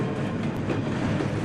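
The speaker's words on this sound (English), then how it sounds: "26Z is a Monday through Friday freight train that runs from Cincinnati" Freight train 26Z, a weekday intermodal train running from Cincinnati to Columbus, Ohio, rumbles steadily close by with a continuous rolling roar and faint rail clatter, heard alone.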